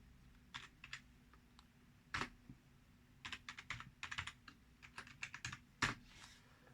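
Keys clatter on a computer keyboard as a terminal command is entered on a Loongson 3A4000 Fedora 28 system, with bursts of close, quiet clicks separated by short pauses.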